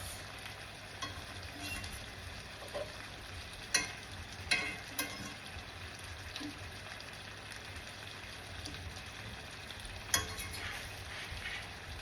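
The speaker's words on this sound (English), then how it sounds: "That ham steak is cooking. Just going to give this ham steak a toss." A ham steak sizzles steadily in a hot pan, a constant close frying hiss with a few sharp clatters as the meat is tossed and the pan knocked about.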